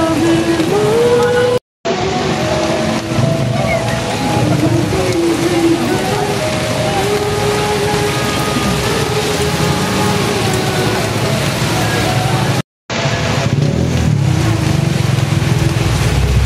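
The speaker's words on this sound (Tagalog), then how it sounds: "Ulan." Steady rain pours down outside a church during a funeral, a dense continuous hiss with a low rumble beneath, broken by two brief silent gaps, while faint voices and a vehicle sound in the background.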